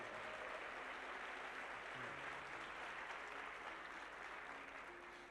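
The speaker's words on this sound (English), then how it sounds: "Give him a round of applause" An audience at a motivational speech claps continuously and evenly throughout, a dense faint wash of applause with no voices over it.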